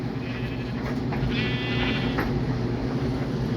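A Minecraft sheep bleats once, a short wavering cry over a steady low background hum.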